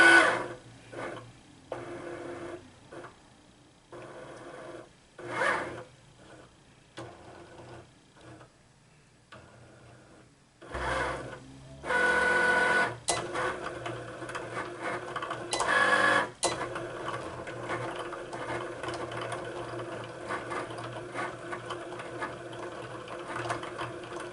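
A Cricut Explore Air cutting machine runs a print-and-cut sticker job, giving intermittent mechanical whirs, clicks and carriage movements close by, with pauses between passes and a steadier hum in the second half.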